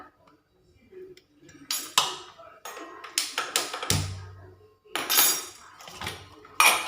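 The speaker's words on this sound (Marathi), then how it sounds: "मी कढई घेतली आहे गॅसवर बघा" A metal kadhai clanks and scrapes as it is set down on a gas stove, with a few sharp knocks and rattles in a quiet room.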